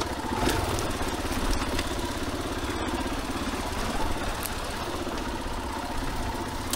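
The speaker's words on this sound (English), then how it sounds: "Riding the KTM." A 2021 KTM 500 EXCF dirt bike rides a wooded off-road trail, its engine droning steadily and loud throughout, with a close, uneven thrum and small throttle swells over wind buffeting.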